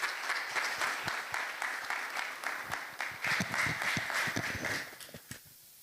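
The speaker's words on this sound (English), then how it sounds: "A big round of applause for Mrs. Kaunda." Audience applause for a guest at an innovation talk event, a steady patter of many hands clapping that thins out and fades away over the final second.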